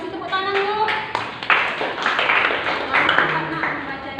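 A classroom of students breaks into hand clapping just after a voice speaks, and the dense, irregular applause carries on at moderate loudness to the end with faint voices mixed in.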